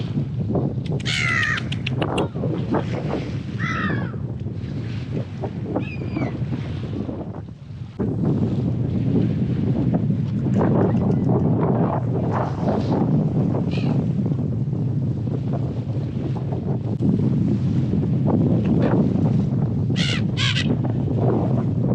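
Seagulls calling beside Bangong Tso lake in Tibet as they gather to be fed sausages; sharp caws come in scattered bursts over heavy wind noise and a steady low rumble.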